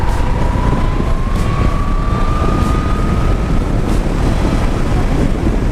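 Yamaha MT-10 roadster motorcycle engine at speed, a steady loud drone with a slowly rising tone as it pulls in a high gear, heavy wind rush over the microphone throughout and no talking.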